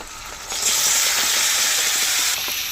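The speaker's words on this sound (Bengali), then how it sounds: "মশলা মাখানো কাঁকড়া পেঁয়াজ তেলে দিয়ে দেবো" Steady, loud sizzling of spiced crab frying in hot oil with onions, a bright hiss that swells after the first half-second and holds throughout.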